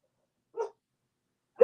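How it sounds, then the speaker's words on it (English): A dog barks twice while a gingerbread-style cookie house is being built indoors, one short bark near the start and a louder one at the very end, separated by silence. "Dog's going to drive us insane."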